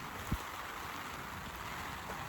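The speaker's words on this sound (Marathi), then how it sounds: "पाऊस आला रे" Steady rain falling outdoors near Khadakwasla dam and Panshet, heard as a continuous even hiss with one soft low thump early on and no voices.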